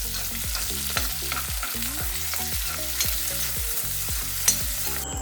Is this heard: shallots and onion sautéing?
yes